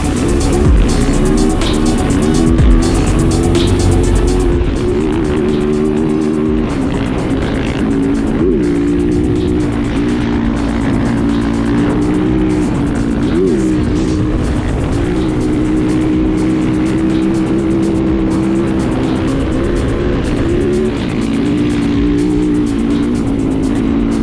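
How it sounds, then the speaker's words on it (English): Dirt bikes with paddle tires ripping through sand, a continuous loud engine drone that rises and falls as the riders throttle on and off, close by with no talking. "These guys have their bikes set up just for sand, paddle tires and all."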